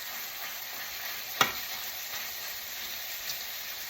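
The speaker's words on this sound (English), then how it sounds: "I got this regular ground beef here. So I'm going to cook it until the redness" Regular ground beef frying over medium heat in a pan, a faint steady sizzle with a single sharp scrape or clack from stirring partway through.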